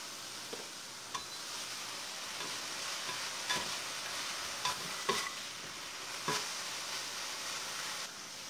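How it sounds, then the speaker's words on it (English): A soft, steady sizzle of mushrooms frying in a pan, punctuated by occasional light scrapes and taps of stirring. "I prefer frying the mushrooms in a pan first."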